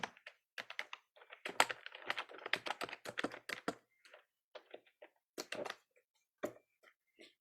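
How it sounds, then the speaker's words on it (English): A computer keyboard clatters with quick, close clicks in irregular bursts and short pauses, typing at a quiet level in a calm room with no talk. "Do you hear the keyboard?"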